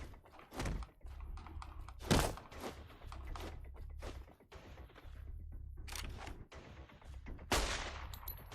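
Video game gunfire rings out in a series of sharp, loud bursts with a heavy low rumble. A few shots come spaced apart among softer clatter and keyboard-like taps, and no one talks.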